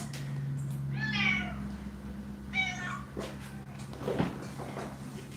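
A house cat meows twice in clear, drawn-out calls at close range, followed by a few soft knocks and rustles against a steady low hum.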